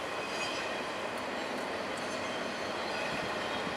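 Continuous rumbling roar of a train passing close by on tracks beside a house in Albany, steady and loud with a faint high squeal of wheels.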